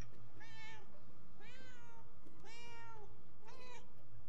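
Four drawn-out cat meows in Murdered: Soul Suspect, evenly spaced about a second apart, clear and fairly close over a low steady hum.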